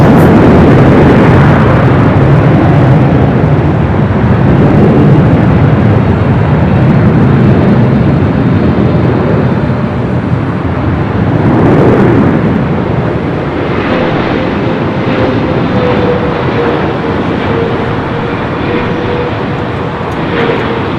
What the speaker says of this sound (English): Eva, the 777 at 300ER coming in from Taipei